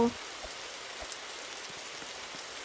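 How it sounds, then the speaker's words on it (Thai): Steady rain patters down in a forest survival video game, a continuous even hiss of drops on surfaces with a few faint low thumps, no talking. "ฝนมันตกนั่นเอง"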